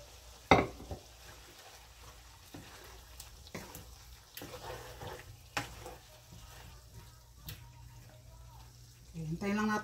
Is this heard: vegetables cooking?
yes